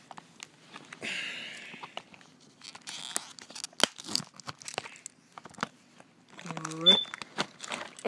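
A Legend of Zelda: Breath of the Wild game package is unboxed by hand, with plastic wrap tearing and crinkling in short bursts between stretches of someone talking.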